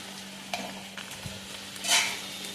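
Potatoes frying in oil in a home kitchen, a soft steady sizzle broken by a few stirring scrapes and a brief louder hiss near the end, with no one speaking.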